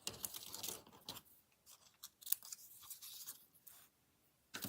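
Paper being trimmed for a holiday card, faint crisp snips and rustles spaced irregularly over a few seconds, close but quiet, with no talking.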